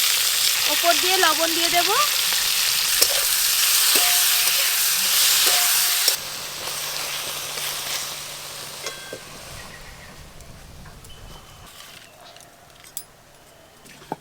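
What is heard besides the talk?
garlic, peppercorns, dried chilies and tomatoes frying in hot oil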